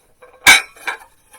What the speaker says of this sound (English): 4 of the dinner plates